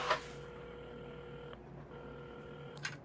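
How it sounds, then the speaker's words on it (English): A phone being dialed in the puzzle video game Assemble with Care, sustained electronic tones in two stretches with a short gap between, framed by soft clicks, quiet and without speech. "at the counter, Carmen had started dialing the phone"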